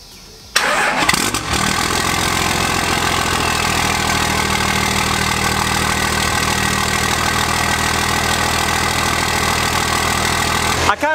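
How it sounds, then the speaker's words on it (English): A 12V Cummins diesel fitted with a straight-pipe exhaust cranks and fires after a short quiet moment, then settles into a loud, steady, rattling diesel idle that lasts to the end. "kind of revved it when I started it up, just to make sure you got that nice quick startup."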